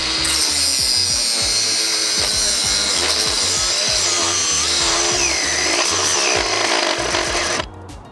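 Loud, harsh grinding screech of an angle grinder cutting through a Hiplok DX1000 metal bike lock, continuous and close, stopping abruptly near the end.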